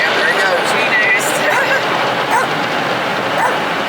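A scared dog whimpers and gives short yips and barks inside a car going through a car wash, its thin cries rising over the constant loud rush of brushes and water, with muffled voices nearby.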